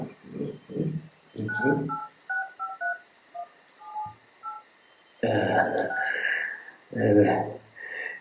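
A run of short keypad dialing beeps, one tone after another, plays between bursts of nearby talking.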